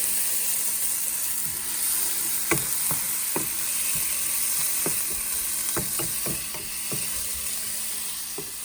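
Pav bhaji mixture fries in a pan with a constant sizzling hiss, broken by scattered spoon taps and scrapes against the pan as it is stirred.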